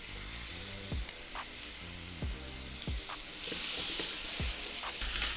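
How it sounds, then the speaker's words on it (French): Teriyaki burger patties grilling in a dry pan with no oil, a steady close sizzle throughout, punctuated by a few soft thuds and clinks as they settle, with the hiss growing slightly brighter toward the end. "On va d'abord bien les faire griller"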